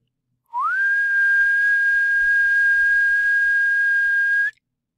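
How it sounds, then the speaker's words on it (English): A person whistles one steady, sustained high tone into a Max 7 music patch, rising briefly at the start and then holding level for about four seconds, clear and alone with a faint low rumble underneath. "I'll try whistling."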